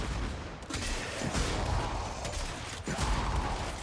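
Airburst detonation from the Corinth Prime shotgun's alt-fire in the Warframe video game: a loud, dense burst of explosive noise running for several seconds, with game mechanisms and combat sounds layered underneath.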